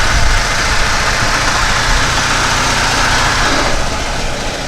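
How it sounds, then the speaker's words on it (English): A lifted Honda Civic's engine runs with transmission noise suspected from driving without a pilot bearing, a loud steady close drone with no talk. "I wonder if I messed up something inside the transmission with driving it so long with no pilot bearing."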